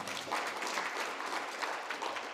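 A conference audience at the NTI Kaduna national conference applauds a keynote speaker with steady, fairly distant clapping that continues evenly throughout, with no voices over it.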